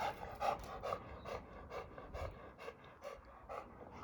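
A dog pants hoarsely in quick, rasping bursts after running, a steady rhythm of rough breaths close by, with no talking.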